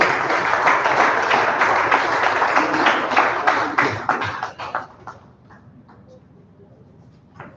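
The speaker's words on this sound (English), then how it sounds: "Please welcome him with an applause." An audience at a Rotary Foundation seminar claps to welcome a guest, a dense burst of applause that holds strong for about four seconds and then thins into scattered claps before fading out.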